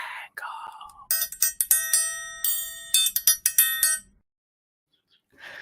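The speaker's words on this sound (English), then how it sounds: "Let's give you the triangle." A metal triangle is struck in a quick run of bright ringing hits, clustered into bursts with short shimmering decays, loud and close; brief voice sounds come just before and after the strikes.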